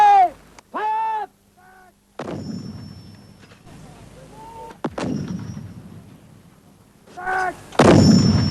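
Artillery guns fire during a 1982 Falklands war account, with several sharp, loud booms that crack and rumble away; shouted commands come between the shots.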